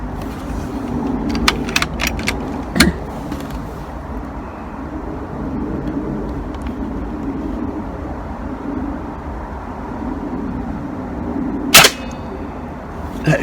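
Beeman air rifle fitted with a 2x7 scope, a few sharp isolated snapping shots spaced several seconds apart over a steady low background hum, with a couple of faint lighter clicks between them.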